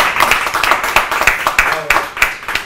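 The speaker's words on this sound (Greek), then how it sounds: "θέλω χειροκρότημα για όλα τα παιδιά" An audience at a televised Greek music show claps in a steady rhythmic beat for the band, close and fairly loud with even spacing between claps.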